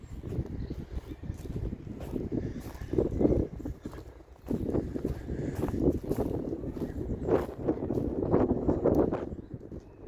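Cold wind blows steadily through an old outdoor cemetery in Invercargill, a continuous rough low rumble of gusts buffeting the microphone, swelling and easing throughout with no clear voices.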